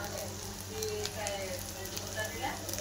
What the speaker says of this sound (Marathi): मस्त तळून झालं की नाही, कसं लाल जरद झालं वाटण आपलं.